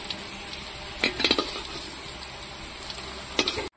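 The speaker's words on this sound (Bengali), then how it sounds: "আলুগুলো ভাজা হয়ে গেছে, আস্তে আস্তে আলুগুলো ভেজেছি" Potatoes fry in oil in a kadai, a continuous close sizzle marked by a few louder crackling bursts and a faint stir or scrape, ending abruptly.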